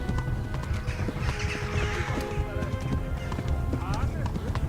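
Rapid hoofbeats of a galloping horse in the medieval game Kingdom Come: Deliverance, a steady fast clip-clop close by, with a voice talking over it.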